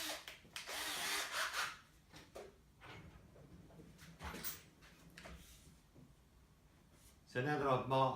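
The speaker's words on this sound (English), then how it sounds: "So now that I've marked the hole using the drill" A power drill with a 5mm bit whirs in bursts, grinding through wood, with pauses between runs and a brief higher whine near the end.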